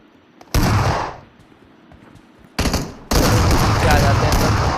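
Heavy automatic gunfire in a shooting video game rattles out in loud sustained bursts, one short, then a longer volley after a pause, dense and close.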